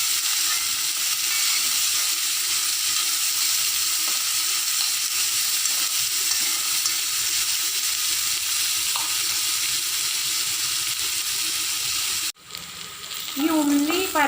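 Onion, green chilli and ginger sauté in a pan with curry leaves, a loud steady sizzle that runs unbroken for about twelve seconds before briefly cutting out and returning.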